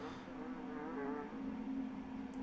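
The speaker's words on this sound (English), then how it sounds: "I heard the flies buzzing and I was wondering what that was about." Faint insect buzzing of flies in The Lost Crown, a low steady drone with a wavering hum above it, continuous and quiet across the short stretch.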